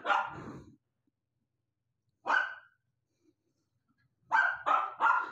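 Dogs barking during play, three separate bursts of loud close barks with short silent gaps, the last a quick run of three barks.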